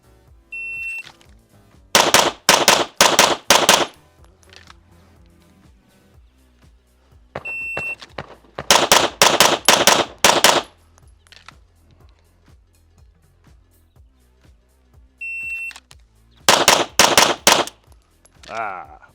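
Pistol shots ring out at a USPSA range in three quick strings of rapid doubles, loud sharp cracks spaced several seconds apart, each string preceded by a short electronic timer beep, with quiet gaps in between.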